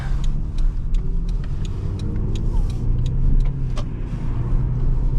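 A 1999 Toyota Camry LE V6 pulls ahead under acceleration, a steady low engine and road rumble heard from inside the cabin with faint ticking over a continuous drone.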